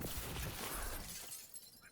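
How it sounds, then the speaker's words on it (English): Glass shattering in Call of Duty: Advanced Warfare, one loud close crash that fades over about a second. "Break that glass real quick."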